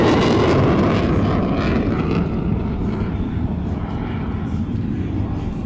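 Military jets at the Hyundai Air & Sea Show produce a loud, continuous roar that fades gradually over a few seconds, with wind buffeting the microphone.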